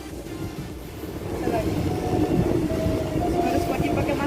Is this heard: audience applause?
no